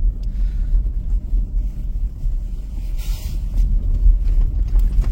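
A 2024 Tesla Model 3 Performance turns and accelerates on snow, heard as a continuous low rumble of tyres and road noise with buffeting wind on the microphone and no speech.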